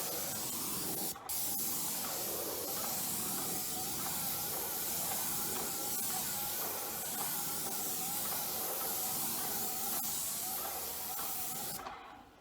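A sprayer applies stain to a wooden fence at an angle, giving a loud, steady hiss that runs almost without a break for about twelve seconds, with a short pause near the start and a cutoff at the end.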